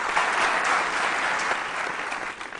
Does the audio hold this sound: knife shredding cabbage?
no